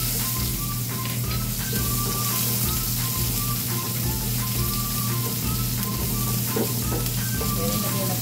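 Garlic and onion sautéing in a hot pan for an eggplant and enoki mushroom dish, a steady close sizzle running throughout, with a low continuous hum beneath it.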